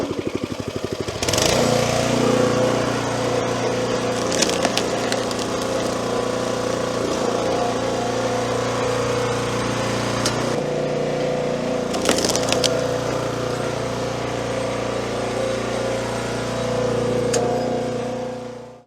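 An engine-driven log splitter running on a knotty oak log, a loud steady close engine drone with a humming pitch that holds throughout, marked by a few sharp cracks and knocks, with no talk.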